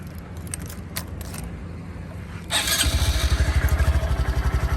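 A stock Honda Grom motorcycle with its factory exhaust idles and then revs up close by, its rapid pulsing putter growing louder, with light mechanical rattles beforehand.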